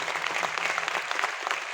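Audience applause fills a hall during a motivational business talk, dense steady clapping from many hands at moderate loudness with no voices over it.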